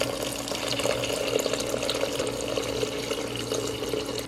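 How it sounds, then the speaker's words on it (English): Water pours steadily into the inner pot of a Buffalo titanium grey smart cooker, a continuous splashing rush that stays even and fairly close throughout, with no voices. "what you guys want to do is add some water in"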